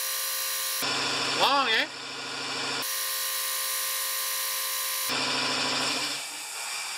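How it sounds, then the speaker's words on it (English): An air compressor in a workshop runs with a loud, continuous droning whine that shifts in level a few times, and someone speaks briefly over it. "I'll wait for the compressor to stop."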